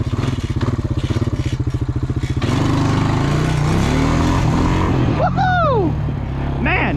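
An old Honda four-wheeler ATV engine idles with a rapid, chugging pulse, then revs up loud and close as it shifts through first and second gear, with squealing pitch sweeps near the end.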